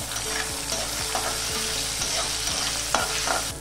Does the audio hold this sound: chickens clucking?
no